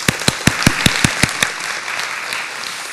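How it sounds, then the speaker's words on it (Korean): Applause in a church welcoming four missionaries who serve in Côte d'Ivoire, West Africa, opening with seven sharp, evenly spaced claps before settling into a fainter wash of clapping. "큰 박수로 환영합니다."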